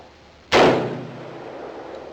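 A Remington Model 11 semi-automatic shotgun fires a single shot with light loads, a sharp loud blast that rings out and decays slowly, with no talk.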